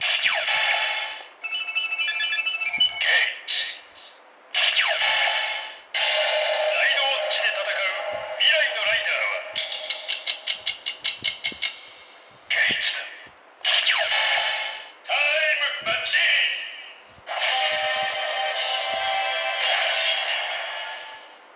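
A DX Geiz Ridewatch toy from Kamen Rider Zi-O plays a string of electronic sound effects: bright synthetic jingles, rapid beeping bursts and swooshes, separated by short gaps, loud and close.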